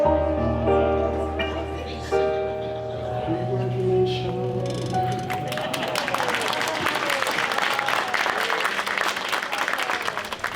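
Audience applause breaks out at a community celebration marking Oregon's marriage equality tenth anniversary, building into steady clapping after a stretch of tonal music and continuing loud to the end.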